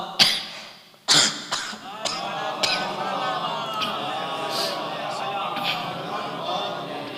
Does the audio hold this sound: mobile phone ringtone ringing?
no